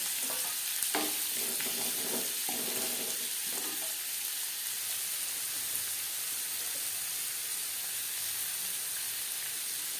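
Chopped onion and slit green chillies fry in a pan with a steady, soft sizzle, punctuated early by a few scraping stirs of a spatula, then settling into continuous crackling.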